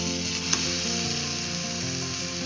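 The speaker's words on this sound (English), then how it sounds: "I'm going to now fry this for about 3 to 4 minutes until the onions become nice and brown." Chopped onions, ginger and tomatoes fry in a pan with a dense, even sizzle close up, holding steady from start to finish with one small click partway through.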